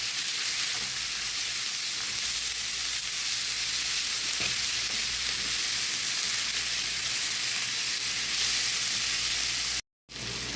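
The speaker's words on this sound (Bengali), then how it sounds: "দিয়ে দিব সব সবজিগুলো সবজিটাও ভেজে নেব লবণের সাথে" Vegetables frying with salt in a pan for a chapa shutki bora recipe, a steady close sizzle running almost the whole way with faint stirring, cutting out briefly near the end.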